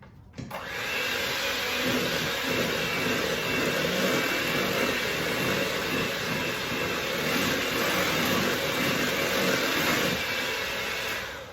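An electric mixer blends oat flour into dark chocolate espresso brownie batter, giving a loud, steady, close whirring drone that starts abruptly and runs without a break for over ten seconds.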